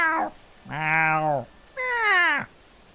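Three loud, close meows from a house cat in the medieval game Bellwright: a short opening cry, then two longer drawn-out calls separated by short gaps, with no talking over them.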